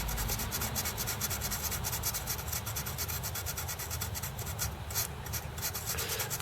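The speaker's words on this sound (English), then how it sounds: "I'm going to just go over this with a fiberglass pen initially here." A fiberglass pen scrubs corrosion off an Amiga A4000 motherboard in steady, close, rapid rasping strokes that continue without pause.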